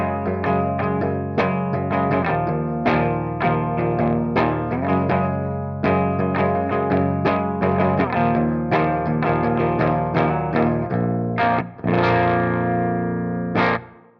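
Electric guitar played through an FM3 high-watt amp model with the pedal off, heard alone: a clean-ish, bright sequence of strummed chords and picked notes with a repeated rhythmic attack and a short pause near the end.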